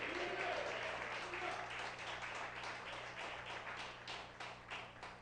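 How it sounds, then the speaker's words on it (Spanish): Church congregation applauding during a Spanish-language sermon, a steady dense wash of clapping that fills the room and fades slightly toward the end, with some voices mixed in. "Dale un aplauso a Dios."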